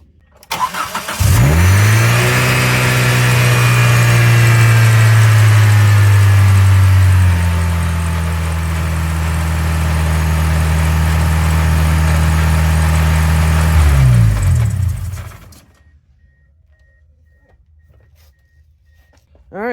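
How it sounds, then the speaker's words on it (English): A 2G Mitsubishi Eclipse four-cylinder engine, repaired after a no-spark fault, starts up close by and revs, then drops into a steady high idle with a loud, even hum before it shuts off. "it definitely runs on all 4 cylinders now"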